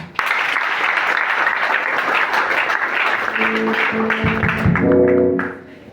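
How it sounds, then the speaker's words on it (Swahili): A church congregation applauds with loud, dense, sustained clapping that fades out at the very end, while voices and a musical tone rise beneath it toward the close. "Pigia pasta makofi mazuri"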